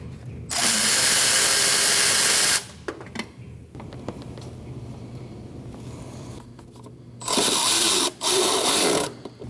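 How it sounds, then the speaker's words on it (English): A power ratchet or drill spinning out a bolt on a 2003-2008 Subaru Forester 2.5L H4 engine during camshaft position sensor replacement, loud close whirring bursts separated by quieter clicks and tool handling. "Once you remove that last bolt,"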